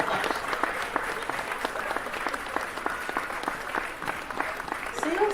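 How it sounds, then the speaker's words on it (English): An audience at an online painting and self-care event claps continuously, a dense, steady patter of many hands that stays fairly loud and even throughout. "Keep the hand claps coming."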